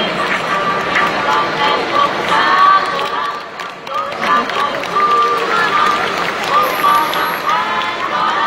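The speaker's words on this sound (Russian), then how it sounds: "ваши аплодисменты" An audience applauds and cheers at a fur seal show, a steady wash of clapping and crowd noise running throughout beneath an announcer's voice.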